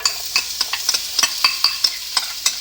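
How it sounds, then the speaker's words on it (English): Carrots, celery and onion sizzle in a pan for a bolognese ragù, a soft frying hiss punctuated by a dozen or so sharp, rhythmic scrapes and taps as the vegetables are stirred, close up and alone. "so now we put carrots, celery, and onion into the pan"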